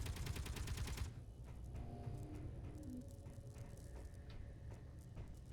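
Gunfire in the space sandbox game Space Engineers: a dense, rapid burst of shots for about the first second, then scattered quieter pops and ticks against a steady low rumble.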